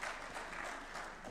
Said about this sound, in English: A clap for Francis Atwoli